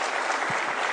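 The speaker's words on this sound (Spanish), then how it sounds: "Por el tronío, por el sonido de los aplausos" Dense applause fills the chamber of the National Assembly, a continuous loud roar of many hands clapping for a brief moment without any voices.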